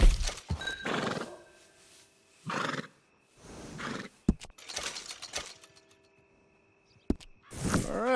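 A horse in the Red Dead Redemption 2 video game whinnies loudly several times, with clip-clopping hooves and faint mechanical clatter between the calls, close and clear with no talking.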